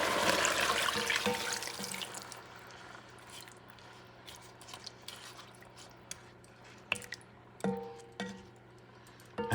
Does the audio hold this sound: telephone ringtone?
no